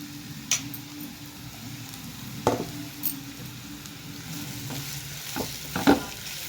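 Mashed potatoes, about half a kilo, stirred through in a frying pan for potato kurma: a soft steady sizzle with scattered scraping knocks of the spoon, louder toward the end.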